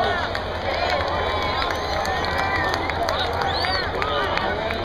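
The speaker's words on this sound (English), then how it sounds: "so give yourselves a round of applause." A large crowd applauding and cheering in an arena at a National Scout Jamboree, dense clapping mixed with shouts and whistles, sustained and fairly loud.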